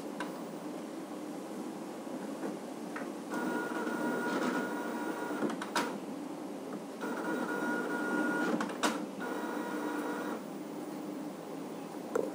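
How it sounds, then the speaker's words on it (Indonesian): A photo printer switched on and running, whirring and buzzing steadily with rising mechanical passes and occasional clicks, close and fairly quiet. "Kita nyalakan dulu printernya."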